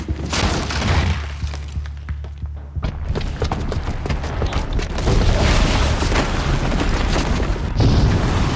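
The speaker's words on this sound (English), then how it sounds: "the booby trap on the bomb downstairs is gonna get set off" A booby-trapped bomb detonates in Horizon Zero Dawn, a loud sustained roar of explosions with crashing debris and crackling bursts that keeps going for several seconds, close and overwhelming.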